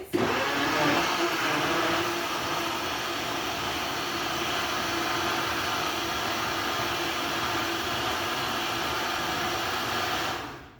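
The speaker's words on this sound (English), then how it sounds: "This is a Vitamix blender." A Vitamix blender roars steadily at high speed for about ten seconds, a loud, even whirring that cuts off abruptly at the end.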